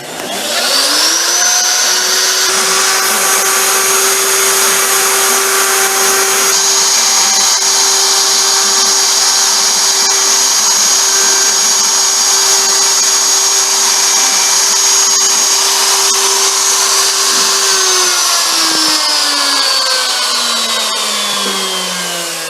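A CNC router running a cutting file whines steadily and loudly for about twenty seconds, a high spindle tone with a shifting pitch that drops as the machine winds down near the end, and no one talks.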